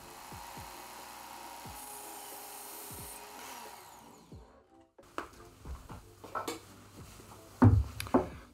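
A butter knife is sharpened on the finest belt of a belt grinder, giving a steady, fairly quiet hiss with faint rhythmic ticks, then a clattering stretch of handling and metal knocks once the grinding stops.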